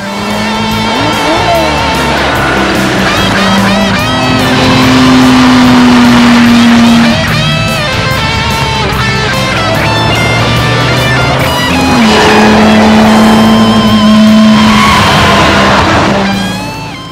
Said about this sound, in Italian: Frank Sinatra, che pretese gli scarichi in ottone per amplificare il rombo già di per sé spaventoso